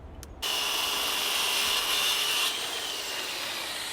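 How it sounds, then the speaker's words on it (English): A wooden trim board is sawn to size with a steady, loud, continuous cutting sound that starts abruptly after a brief pause. The sawing runs unbroken to the end with no speech. "now we are ready to go ahead and cut our pieces to size to fit exactly what we had here before"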